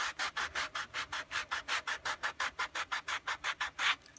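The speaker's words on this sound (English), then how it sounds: "Sand down there along the bottom." Leather edge sanded with quick back-and-forth strokes, about twenty even rhythmic rasping passes, close and steady with no talking.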